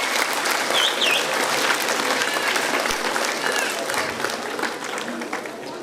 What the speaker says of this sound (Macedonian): Добро, уште еден аплауз за сите ученици од 8 оделение